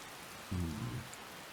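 Rain falls steadily in the video game Skyrim, a soft continuous hiss of drops on surfaces, with a brief low thud partway through and no talking.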